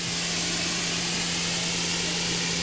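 A steady, loud hiss of liquid being sprayed onto a quartz-coated car, continuous and close, with a faint low hum beneath it and no talking.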